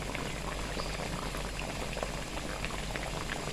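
Potato kebabs frying in oil, a steady dense bubbling sizzle with a constant close crackle throughout.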